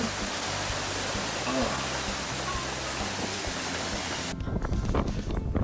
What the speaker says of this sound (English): Oh, look at that wind!